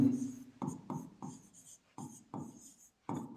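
Chalk or marker writing on a board during a Hindi-language math lesson on triangles: quiet, close scratchy strokes in short rhythmic bursts separated by brief pauses.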